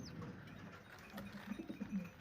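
Pigeons in a loft coo softly, with faint low, rolling calls repeating in the background of a quiet room.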